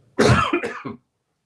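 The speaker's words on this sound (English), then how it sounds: "that's my cough coming back here" A single sharp cough, close and loud, breaking into two or three quick bursts before silence.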